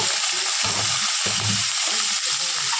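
Meat frying in a pan, a loud, steady sizzle and hiss filling the whole stretch, with low stirring thumps and scrapes in the background.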